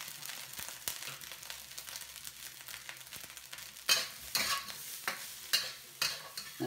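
Spring onions are tossed into fried rice in a wok: a soft sizzle at first, then a series of loud, rhythmic scraping and clattering stirs against the metal pan.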